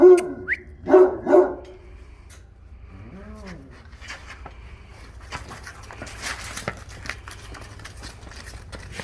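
Dogs bark at an outdoor dog contest event, with a few loud close barks at the start, followed by quieter mixed background sounds and distant noise.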